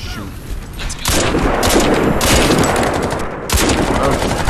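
Rapid bursts of gunfire from the multiplayer shooter Crysis 3 hammer away almost continuously, loud and close, with a brief lull before the firing picks up again.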